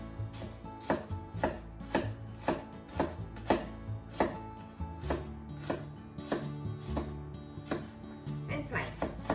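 Steady rhythmic knife strokes cut slits into food on a cutting board while preparing carbonara-style rice, a dozen or so crisp close taps at an even pace with some talk in the background.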